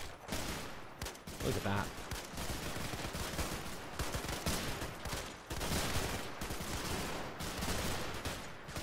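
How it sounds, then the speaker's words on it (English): BAR and M1 Garand rifle fire mixed with Thompson submachine guns in a World War II trench battle in the game Men of War: Assault Squad, a dense continuous rattle of overlapping shots with a brief spoken remark over it. "BAR and Garands opening up. We have a few Thompsons as well."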